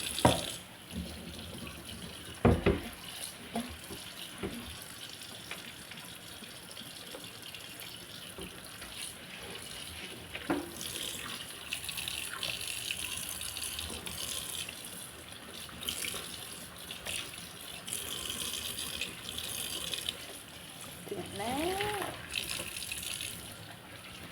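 Tap water runs steadily into a kitchen sink while items are rinsed underneath, a continuous close splashing hiss with a few sharper clatters; occasional voices are heard.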